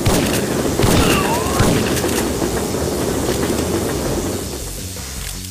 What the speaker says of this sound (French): Du coup il se mange le train. Donc c'est amusant. Le train passe.